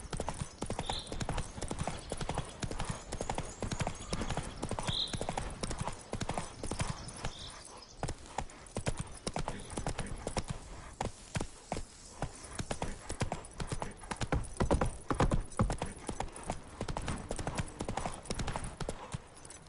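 Horse hooves galloping in The Witcher 3: Wild Hunt, a steady, fast clip-clop rhythm running throughout at close range, with occasional brief whinnies and faint background game sounds.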